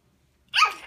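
A single sharp, breathy sneeze burst from a child, loud and close, following a moment of near silence.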